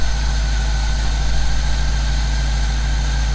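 A slammed 1952 car's engine idles steadily and loudly just after starting, a constant low rumble with no variation or voices.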